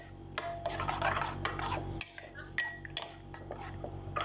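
Gulam salad stirred with full cream in a bowl, a spoon clinking and scraping against the dish in steady irregular strokes, close and moderately quiet.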